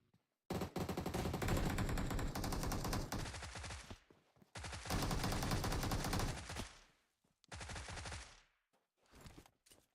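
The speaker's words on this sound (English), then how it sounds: "Shooting." Video game gunfire in competitive match play, long bursts of rapid automatic shots coming in several loud clusters separated by brief silences, the last bursts shorter and spaced apart.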